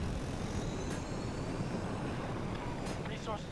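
A jet aircraft roars past in the video game Battlefield 2042, a steady, loud broadband engine rush filling the whole stretch, with a few faint higher whines and game effects on top.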